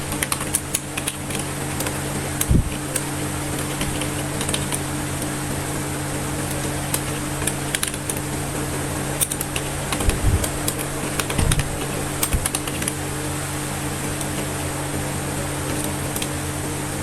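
Clicking keystrokes on a computer keyboard while server commands are typed, irregular taps in short bursts over a steady hum of a cooling fan, with no talk.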